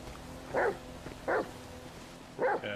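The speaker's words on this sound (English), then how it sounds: "He's barking at the door." A dog barking at a house door in a GTA FiveM roleplay game, three short, sharp barks spaced evenly over a steady background hum.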